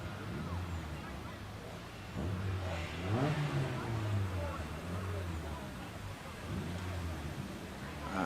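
A 1600cc Caterham 7 sits on the start line at a Prescott hillclimb, its engine revving repeatedly in rising and falling bursts. A steady idle runs between the revs, with a commentator talking over the top.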